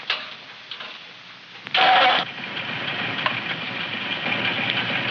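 A tractor engine cranks briefly, then catches and settles into a steady, smooth idle that runs on to the end without voices.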